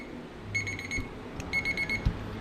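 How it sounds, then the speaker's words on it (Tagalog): A kitchen timer alarm rings in two short bursts of rapid high electronic beeps, fairly loud and close, with a faint low room hum underneath and no talking. "Done na ito yung timer, guys."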